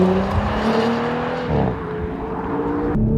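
A 2018 Audi S4 with a 354 hp engine and all-wheel drive accelerates hard from a standstill toward 60 mph, its engine note rising steadily, dropping briefly at a gear change near the middle, then climbing again, loud from inside the cabin with a windy backdrop.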